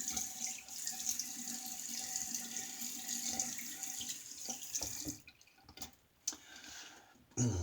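Tap water runs and splashes steadily into a sink as a single edge razor is rinsed, close and soft, then breaks into scattered drips and splashes once the flow is interrupted.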